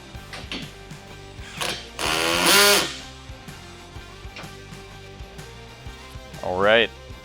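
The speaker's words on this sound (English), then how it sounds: "now that you've got these guys tightened down with the drill" A drill tightens tire carrier bolts, with two bursts of motor whine rising in pitch between ratcheting clicks and mechanical knocks, close and moderately loud.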